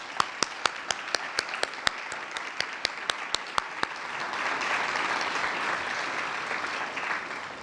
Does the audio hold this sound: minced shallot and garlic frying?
no